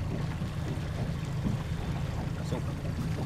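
A small boat's engine idles at low revs in a harbour off Rathlin Island, a steady low throbbing drone with wind buffeting the microphone throughout.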